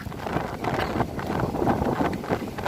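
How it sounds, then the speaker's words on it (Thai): Strong wind buffets the microphone in a continuous rumbling roar that rises and falls without letting up, out in rice fields in the rainy season. "โอ้ลมแรงมากเลย"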